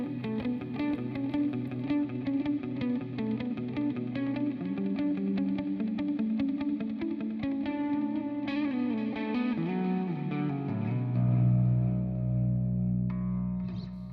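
Distorted metal-style electric guitar chords ring out with heavy reverb and echo, ending on a sustained chord that washes away slowly.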